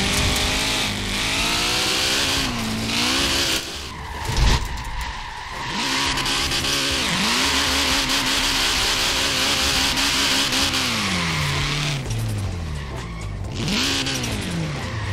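Cars drifting in Forza Horizon 4, engines revving loudly with long rising and falling tire squeals and skids, one short break in the middle before the sliding resumes.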